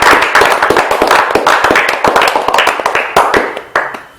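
A church congregation applauds loudly, with dense, sharp overlapping hand claps that come close and keep going for about four seconds with no voices over them.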